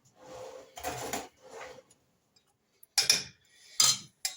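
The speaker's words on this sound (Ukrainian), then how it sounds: "Ось так перемняла до однорідної маси, гарбуз варений і досить легко розминається." Boiled pumpkin being mashed by hand in a pot to a smooth mass, heard as several separate soft squelching and scraping strokes with short pauses between them, close and fairly quiet.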